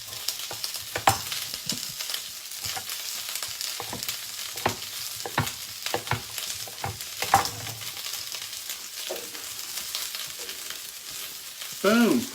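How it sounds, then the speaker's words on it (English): Onions and sweet potato sizzle and fry in a hot sauté pan, a steady crackling hiss broken by scraping stirs and clanks of the utensil, with one louder low knock near the end. "I cranked my pan up and now it's making some noise"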